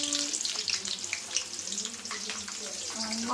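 Onions, green chillies, dried red chilli and mustard seeds fry in hot oil for a chicken curry, giving a steady crackling sizzle with light spatters, moderately faint, with faint voice in the background.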